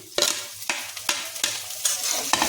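Dry chillies hit hot oil with garlic for a soya methi aloo palak sabzi, giving a steady frying sizzle punctuated by a series of sharp spoon-stirring scrapes against the pan.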